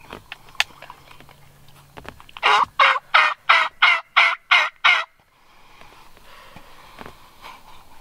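A wild turkey gobbles in a rapid series of about eight loud bursts during a South Carolina turkey hunt, then faint outdoor ambience with distant bird calls.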